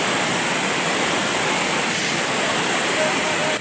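Tiggalay Falls in San Isidro, Abra, cascades in a steady, dense rush of falling water, a constant hiss with no break, close and fairly loud.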